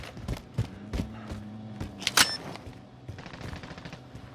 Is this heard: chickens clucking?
no